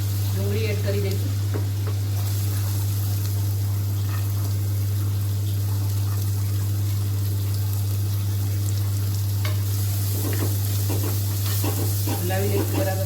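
Onions frying in a pan for soya vadi sabji, a steady sizzle with intermittent stirring scrapes, accompanied by a continuous low electrical hum throughout.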